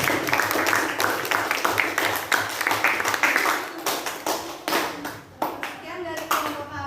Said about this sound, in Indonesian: sekali lagi beri aplaus